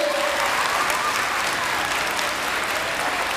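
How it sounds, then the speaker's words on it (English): Loud, steady clapping from a middle school audience of students and teachers at an assembly, many hands together in a continuous, close wash of applause with no voices on top. "Clap your hands, everybody."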